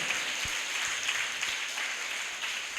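Church congregation clapping together during Sunday worship, a steady dense patter of many hands held at an even level throughout, with a few sharper claps standing out.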